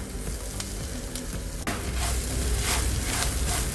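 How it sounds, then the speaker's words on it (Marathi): Roughly hand-mashed boiled potatoes sautéing in a pan for aloo matar kachori, a dense continuous sizzle that swells louder after a sharp scrape or clatter midway, no voices. "आता हे यामध्ये परतून घेऊया."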